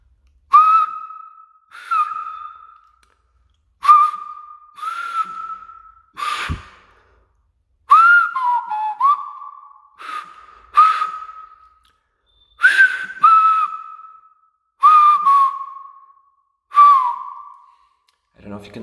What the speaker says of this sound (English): It all seems to work if it's the kind of the open mouthed whistle with the finger